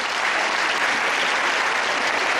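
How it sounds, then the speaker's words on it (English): An audience at a university seminar breaks into steady, dense applause, loud and continuous throughout with no voices over it. "Please give them a round of applause."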